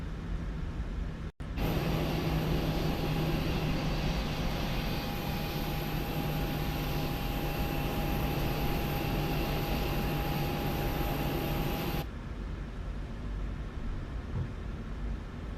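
A Cessna 414 twin piston aircraft in a flight simulator game drones steadily at cruise, a loud, even engine roar with a sustained tone that starts after a brief gap and cuts off near the end.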